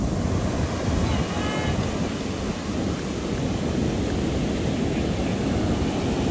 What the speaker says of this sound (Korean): 파도가 엄청 세니까